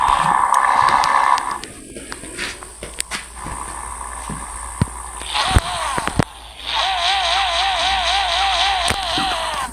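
A car engine runs and then pulls the car away, rising and falling in pitch with some uneven mechanical noise before settling into a steady drive.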